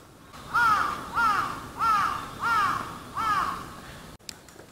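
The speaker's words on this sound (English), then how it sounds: "You can hear the birds in the background." Crows caw five times in a steady, evenly spaced series, moderately loud outdoors along a trail at Fushimi Inari in Japan, followed by a brief rustle.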